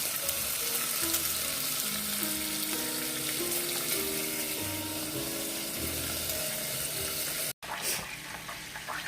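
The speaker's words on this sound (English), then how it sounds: "I'm going to throw in my onions and bell peppers" Onions and bell peppers frying in a pan on a home stove, a dense steady sizzle close up with a faint tonal hum beneath and a brief dropout near the end.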